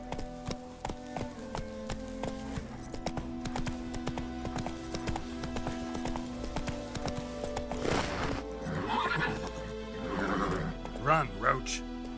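Clip-clop hoofbeats of the horse Roach galloping in The Witcher 3, a steady rhythmic run with occasional whinnies, under game music and a voice urging the horse on.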